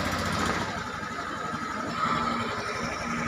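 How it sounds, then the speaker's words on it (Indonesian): An automatic scooter's engine idles steadily during an oil change in a vocational school workshop, a continuous close mid-pitched hum with a faint rise near the end and no voices over it. "Silakan hidupkan sepeda motornya ya."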